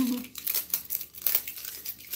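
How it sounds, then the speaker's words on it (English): Plastic toy packaging for LOL Dolls crinkles and rustles as it is unzipped and handled, a soft, close series of irregular crackles and scrapes. "So I'm going to take the zipper off again."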